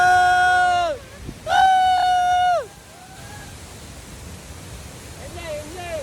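Hogenakkal waterfall, on the Karnataka–Tamil Nadu border, gives a steady rushing roar under loud, gliding whistle-like tones and nearby voices.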